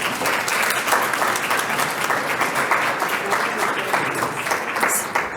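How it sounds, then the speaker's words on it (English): Continuous applause fills the room as a conference audience claps for a panel of presenters at a session on youth homelessness, an even, dense wash of hands with no break. "One more round of applause for all of our presenters."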